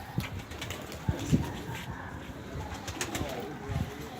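Pigeons in a coop give soft, scattered coos at low volume, with a few faint flutters and no clear talk.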